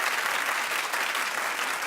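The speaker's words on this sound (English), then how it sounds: "Clap if you are telling her don't do it." Studio audience applause at a talk show, a dense steady wash of clapping that fills the whole stretch at even loudness with no voices above it.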